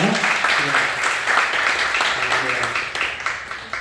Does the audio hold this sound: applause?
yes